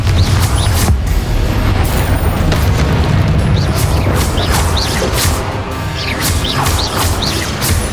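Confringo spell explosions in Hogwarts Legacy, a continuous clamour of booms, crashes and sharp impacts from a magical duel, loud and dense, with repeated bursts layered over a rumbling low roar.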